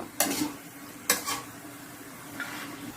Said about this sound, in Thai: ผัดพอมันหอมนะจ๊ะผัดให้เครื่องแกงมันหอม